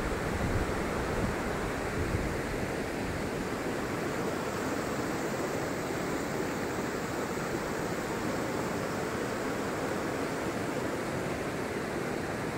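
Steady, dense rushing water of the Dikapanikian River in Dingalan roars continuously and loudly, a strong current flowing without pause and no voices.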